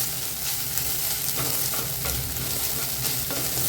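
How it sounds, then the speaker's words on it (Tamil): Grated coconut sautéing in a hot pan for aval kolukattai, a loud continuous close sizzle and frying hiss with soft stirring scrapes throughout, no voices. "கடைசியாக வந்து இந்த தேங்காவை அதிலே போட்டு ஒரு வதக்க வதக்கலாம்"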